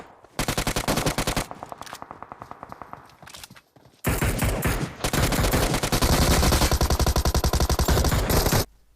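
Rapid bursts of AKM assault rifle fire in PUBG, loud and sustained, with a short sequence of automatic shots, a brief pause, then a longer, heavier stretch of continuous gunfire.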